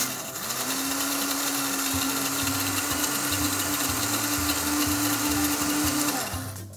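An electric blender grinds a peanut butter sauce for bibim noodles, a steady loud motor whine held for several seconds with the blade churning underneath, then cutting off at the end.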